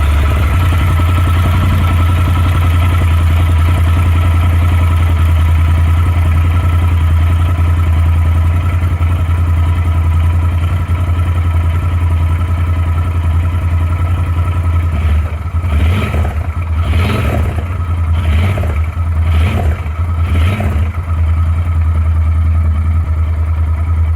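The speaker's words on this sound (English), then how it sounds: "We will start the engine again and then see how it goes." A Yamaha Super Tenere motorcycle engine, just refilled with oil, idles steadily and loudly throughout, with a few quick revving bursts near the end.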